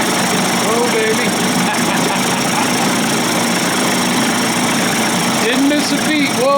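A Johnson Evinrude outboard motor, converted from 25 to 35 hp, runs steadily in gear with a constant loud drone, while people talk and exclaim over it.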